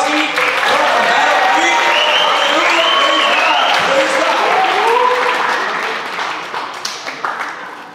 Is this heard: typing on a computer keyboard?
no